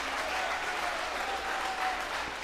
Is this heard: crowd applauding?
yes